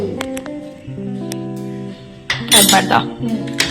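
A spoon clinks and scrapes in a bowl while gobi manchurian batter with corn flour is mixed, a run of sharp metallic clinks building to a busier, louder burst of stirring near the end.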